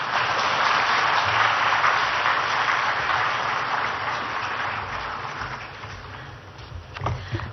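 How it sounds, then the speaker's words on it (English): A conference audience at a plenary session in Visakhapatnam gives a sustained round of applause, a dense wash of clapping that slowly thins out toward the end. "a huge round of applause for everyone on the dais"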